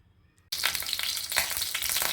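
A kadai of oil bursts into loud sizzling after a half-second of near silence, then keeps frying steadily with crackling spikes.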